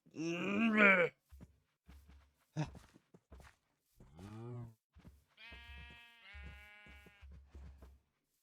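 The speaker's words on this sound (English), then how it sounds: "We got some sheep." Sheep bleating in the Minecraft video game while animals are herded into a pen, several separate bleats and groans spaced out over a few seconds, close and loud against quiet gaps with soft footsteps.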